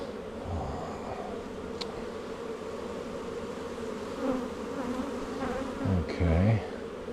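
Honey bees buzz steadily around an open hive during a summer inspection, a dense close drone throughout, with louder low passes near the end as individual bees fly by the microphone.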